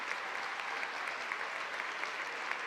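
A crowd on both sides of a high school boys basketball section final applauds steadily, dense and even in volume throughout, with no voices standing out.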